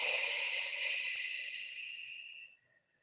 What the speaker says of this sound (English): Clear yourself out, relax with an exhale.